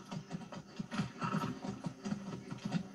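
Rhythmic clip-clop of horse hooves at a steady trot on a dirt road in the video game Far Cry 6, evenly spaced thuds repeating close by and fairly quiet.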